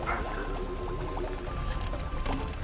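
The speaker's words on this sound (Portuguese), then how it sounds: "Escape as ondas. Nossa, tá vindo muita onda." Rushing, splashing water from a cartoonish video game sequence where waves surge in, a dense continuous wash with brief splashy bursts throughout.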